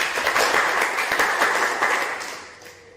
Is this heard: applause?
yes